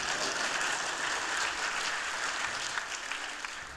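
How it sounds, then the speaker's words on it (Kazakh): Steady, dense applause from a concert audience fills the whole stretch at a sustained loud level, with a few sharper individual claps near the end and no talking. "Шапалақ ұрғанға рахмет."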